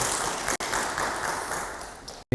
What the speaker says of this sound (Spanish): Un aplauso para ella, ¿verdad?